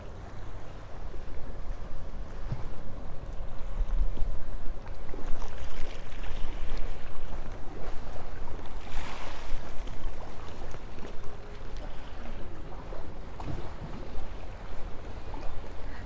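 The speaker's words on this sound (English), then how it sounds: "You can just hear the waves lapping as well." Gentle waves lap against the shore at Puerto Pollensa in Majorca on an evening seafront, a soft continuous wash with slow surges, heard close and moderately loud with no talking.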